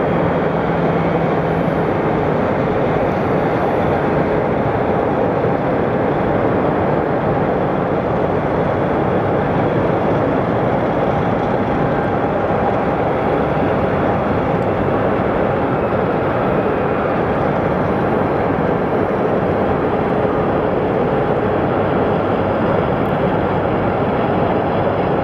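An American Airlines passenger plane lands at Sky Harbor Airport, heard as a loud, steady, broadband roar that holds unbroken for the whole stretch without any voices.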